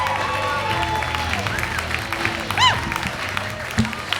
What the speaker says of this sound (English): Big hand for Jeanne Corcoran. Let her hear it